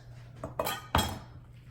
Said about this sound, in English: So we're actually slicing each round into 8s.